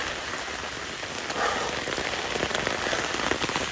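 Steady rain pours down outdoors during a walk, a dense, even hiss of drops hitting the ground and nearby surfaces, close and constant with no voices.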